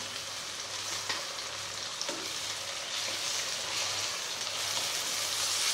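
Whole spices, bay leaf, four dried red chillies and tomato frying in a pan for veg dalcha, a steady dense sizzle close up with faint stirring clicks throughout.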